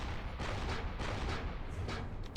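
A heavy, chunky naval gun in the warship game From The Depths fires salvos, producing a dense run of booming blasts and rumble that fills the whole stretch without pause.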